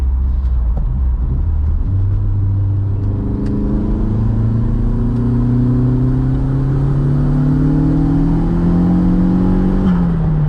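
A 1.8T Mk2 car makes a full-throttle pull, a loud close engine note climbing steadily in pitch for about ten seconds after an initial lower drone, with no talking.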